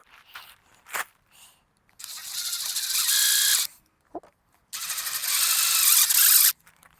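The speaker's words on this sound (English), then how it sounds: "I'm just going to screw through the T and into the pipe to hold the ends" Screws are driven through a PVC tee into a pipe with a power drill, two sustained whirring bursts of about one and a half seconds each, close and loud, with short clicks and handling noise between.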